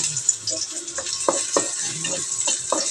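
Ginger sautéing in a pan, a steady high sizzle close by, broken by several brief scraping stirs at irregular intervals.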